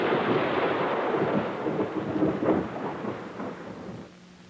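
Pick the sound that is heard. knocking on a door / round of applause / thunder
thunder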